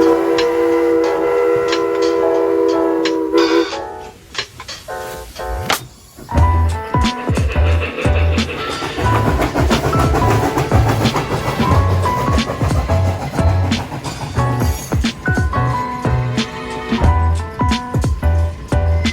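A model train runs on a model railway layout, a horn or whistle tone at the start giving way to rhythmic clattering and rumbling of wheels over track joints, loud and close, with no voices.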